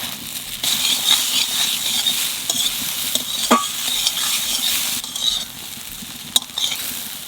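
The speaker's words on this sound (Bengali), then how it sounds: "এইবার চিংড়ি মাছ কটা লাল খোসার মধ্যে দিয়ে দেবো।" Shrimp fry in a pan with gourd peel, giving a close, steady sizzle and hiss. The food is stirred, with scraping and utensil clinks at irregular intervals and a few sharp knocks.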